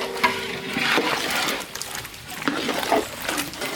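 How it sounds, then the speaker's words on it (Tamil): Semolina (rava) frying in ghee while being stirred for kesari, a close, steady sizzle with scraping stir strokes and soft clatter throughout, no talking. "கேசரி கிண்ட ரவா வந்து நெய்யிலே வதக்கி எடுத்துக்கலாம்"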